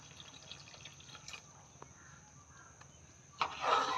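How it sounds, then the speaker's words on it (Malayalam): Coconut milk poured into cooked lentil curry for a Kerala puttu and parippu meal: a brief liquid splash and pour near the end, after a quiet kitchen background. "അത് അതിനകത്തോട്ട് ഒഴിച്ച് നമുക്ക് തേങ്ങാപ്പാൽ ഒഴിച്ച് കൊടുക്കാം."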